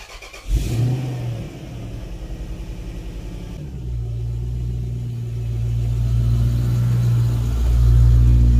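A Lexus car engine cranks and catches, then settles into a steady low idle before the revs climb and the rumble grows louder toward the end, close and clear with no talking.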